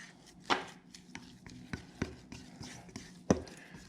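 Whole wheat bread ingredients are mixed together in a bowl, producing irregular knocking thuds and scraping taps from the utensil, some sharper than others, close by and without talk.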